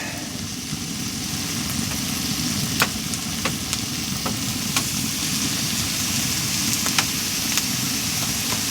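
Steak sizzles in a pan with mushrooms and onions inside a hot tent, a constant dense hiss with scattered small crackles and clicks, steady throughout and without talk.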